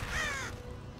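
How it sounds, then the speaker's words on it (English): A single crow caw from the South Park video game, short and clear at the start, fading into near silence after. "Bird."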